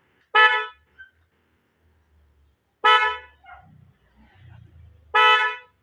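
Three loud, blaring horn honks from a DIY upgraded horn on a Toyota Hiace Commuter Deluxe van, spaced a couple of seconds apart, with brief low mumbled talk between the later blasts.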